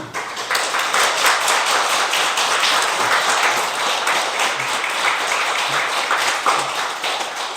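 A church congregation at Sunday worship claps together, a dense, loud, steady round of applause filling the room for several seconds.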